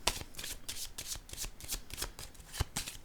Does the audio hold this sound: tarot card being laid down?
yes